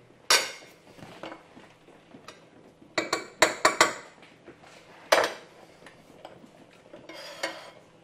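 Seasoned lamb chops, to be breaded with parmesan, are mixed in a dish. A utensil strikes and scrapes against it in sharp, close clinks that come in bursts with quiet gaps between.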